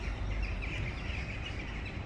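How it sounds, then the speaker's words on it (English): A large flock of jackdaws calls as the birds fly into a big roost at dusk, a dense, continuous wash of chattering calls at middle distance over steady low background noise. "Birds coming in all the time."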